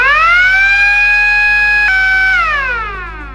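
A work-site siren signals the start of working hours. It is a loud, steady electronic wail that holds one high pitch, then slides downward and fades as it winds down.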